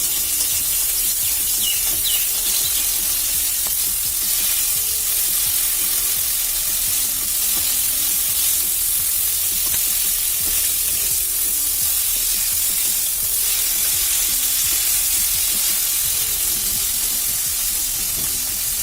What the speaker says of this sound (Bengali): মাছটা আমি এপিট এপিট করে ভালো করে লাল করে ভাজি করে নিই।